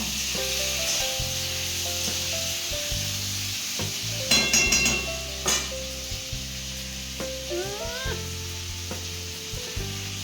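Potatoes drop into a hot pan of oil and fry, a steady sizzle with stirring scrapes and a brief clatter in the middle, with no talk.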